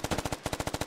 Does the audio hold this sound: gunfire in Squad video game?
yes